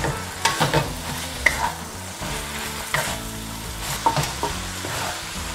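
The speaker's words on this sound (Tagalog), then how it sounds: "ihalo ko na to ang Baguio beans at saka carrots. Mix ko lang ng mabuti." Baguio beans and carrots stirred into a sizzling lumpia filling in a pan, a steady loud frying hiss with repeated scraping and clanking strokes of the spatula, close up and without talk.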